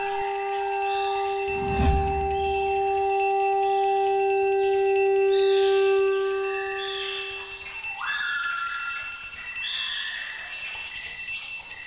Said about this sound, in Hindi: इतने गहरे जंगल में शंख कौन बजा रहा है? घंटी की आवाज भी आ रही है।